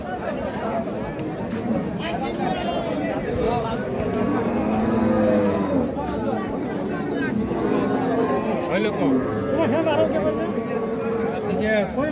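Cattle at a busy rural livestock market in Bangladesh, with a cow lowing amid constant crowd chatter and bargaining voices; people talk throughout over the animals.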